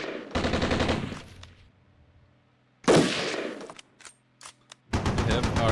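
Automatic weapons fire in the Cold War tactics game Armored Brigade 2, with a Soviet push into Finland: loud sustained machine-gun bursts start and stop in three separate volleys, with quieter scattered shots and sharp cracks in between.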